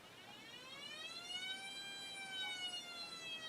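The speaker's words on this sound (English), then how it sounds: "Air Raid Siren by Digifect Sound Effects Library, sure. Playing on Spotify." An air raid siren sound effect plays from a speaker indoors, rising and falling as a steady wailing tone with layered harmonics that is quiet and somewhat distant, with no talking.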